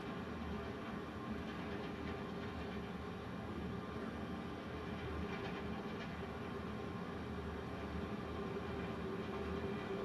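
A small airplane engine roars steadily during the takeoff roll, a continuous broad drone with rumbling low end heard from inside the cabin, no talk.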